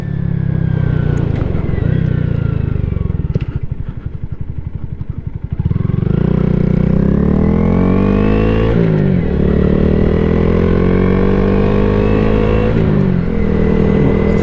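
A 2022 Honda Grom motorcycle rides along with its small engine droning loud and close, revving and shifting through rising and falling pitch sweeps, easing off briefly before pulling away again.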